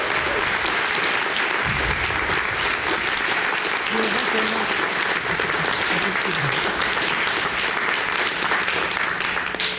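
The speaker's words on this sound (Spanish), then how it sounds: "Aplaudan los 10 que estamos aquí." Sustained applause from a church congregation fills the room, steady and dense throughout with a few voices calling out beneath the clapping.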